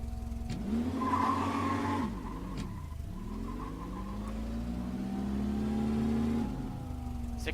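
A car accelerates hard from 0 to 60 in about six seconds during a test drive, its engine rising through gears in close, loud sweeps with brief tire squeal, alone without voices.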